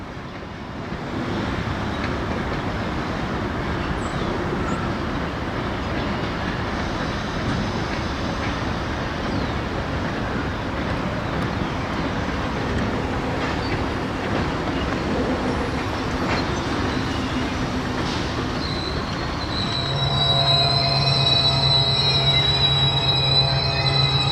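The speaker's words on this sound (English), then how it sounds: "we see the NX-10 now in charge of the train, pulling the train to the south end" A freight train pulled by an NX-10 locomotive rumbles steadily past, wheels grinding on the rails, with a high metallic squeal rising near the end over the continuous roar.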